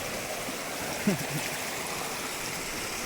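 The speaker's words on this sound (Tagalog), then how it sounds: "Napakalinis ng ilog." A clear, clean river in a secluded spot in Isabela flows as a steady, soft broadband wash, with a brief faint splash or gurgle partway through and no talking.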